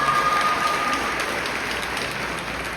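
At an eighth-grade graduation ceremony, an audience gives a round of applause that comes across as a soft, steady patter of many hands, somewhat distant and fairly quiet throughout.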